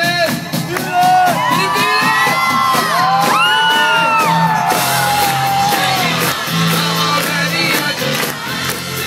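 Concert crowd at a show whooping, yelling and cheering loudly and continuously, many voices rising and falling over a steady low musical backdrop.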